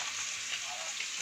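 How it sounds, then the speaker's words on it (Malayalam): Dried fish frying in a pan with salt, turmeric and chili powder gives a steady, soft, hissing sizzle of hot oil, continuous and faint. "ഉപ്പും മഞ്ഞപ്പൊടിയും മുളക് പൊടി ഇട്ടിട്ട് ഇങ്ങനെ വറുത്തെടുക്കാം"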